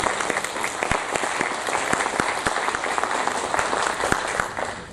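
Conference audience applauding at an anticorruption event, a dense, steady wash of many hands clapping close by, holding evenly for several seconds before tapering off at the end.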